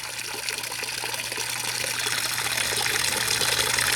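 Water gushes steadily through a working mineral separator, a dense, continuous rushing and churning that swells slightly louder, with a low steady hum underneath and no voices.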